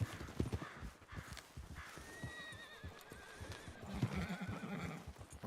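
A horse whinnies twice in Red Dead Redemption 2, rising and wavering, over the steady clip-clop of hooves nearby, with no one speaking.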